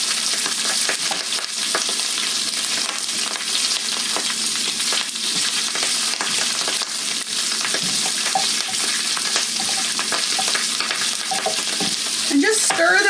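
Herbs sizzle and fry steadily in hot oil in a pan, with stirring scrapes and clinks throughout, loud and continuous with no talking.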